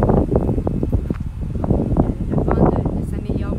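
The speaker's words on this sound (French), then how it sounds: "Le vent ne s'améliore pas ici, hein?" Strong outdoor wind buffets the microphone in a continuous, loud low rumble with gusting swells throughout, heavily masking everything else.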